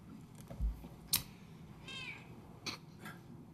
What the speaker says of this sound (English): It's a noisy cat there.